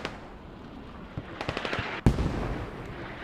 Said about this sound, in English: We have a rocket strike on the mosque.